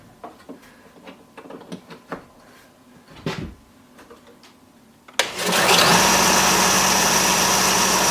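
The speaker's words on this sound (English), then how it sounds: "Plug in the belt sander." A belt sander powered from a DABBSSON 600L compact portable power station starts with a sudden jolt after a few quiet knocks and clicks, then runs loud and steady with a constant high whine.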